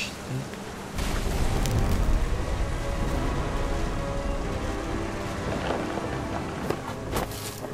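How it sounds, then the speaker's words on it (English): A heavy thunderstorm in What Remains of Edith Finch: after a short pause, steady, dense rain pours close by with a low rumbling undertone, continuing evenly to the end. "The thunder sounded much too close and full of angry power."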